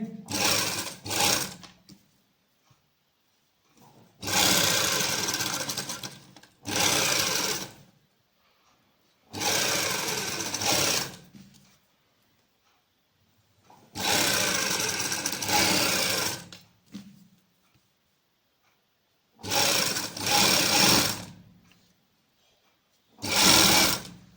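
A sewing machine stitches lace onto fabric at slow speed in short, loud, close bursts of steady whirring, each stopping for a quiet pause of a second or two before the next.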